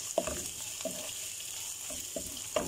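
Crushed garlic, ginger and chopped green chillies frying with onions in oil, a continuous gentle sizzle broken by four or five quick spoon scrapes as the mixture is stirred.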